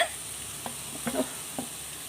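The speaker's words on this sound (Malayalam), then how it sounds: "ഇപ്പോൾ ഇഞ്ചിയുടെയും വെളുത്തുള്ളിയുടെ എല്ലാം ചുവ മാറിയപ്പോൾ കൊച്ചുള്ളി ഇട്ട് കൊടുക്കും" Crushed small onions (shallots) go into a pan of frying ginger and garlic for a tuna thoran. A soft, steady sizzle plays under a few light stirring scrapes, close by and without talk.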